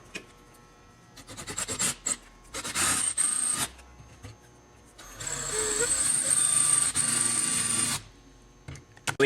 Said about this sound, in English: We have now finished drilling out the rivet.